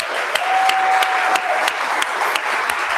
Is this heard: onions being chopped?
no